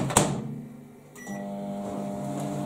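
A click and beep, then a microwave oven hums steadily as it starts running, close by and fairly quiet.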